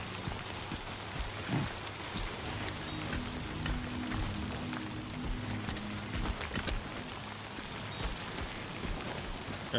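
Heavy timefall rain in Death Stranding 2: On the Beach, pouring steadily on a forest hiking trail as a dense, even hiss of drops with a low rumbling undertone, continuous and close, no voices.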